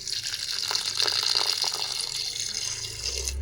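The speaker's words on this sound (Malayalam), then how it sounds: "കുറച്ച് വെള്ളം കൂടി ചേർത്ത് കൊടുക്കും." Water gushing from a vessel into a pot of moong dal curry with pumpkin and drumstick leaves, a steady close pouring splash lasting a few seconds with no talk.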